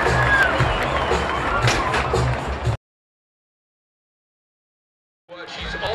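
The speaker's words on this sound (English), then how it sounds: "let's give them all a nice round of applause out here tonight, please" A rodeo crowd at a county rodeo claps and cheers in a dense burst of noise that cuts to silence partway through, then picks up again near the end.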